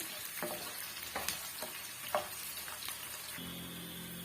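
Peeled garlic fries in oil for a garlic tomato chutney, giving a soft, steady sizzle punctuated by several scraping stirs, with a brief low hum entering near the end.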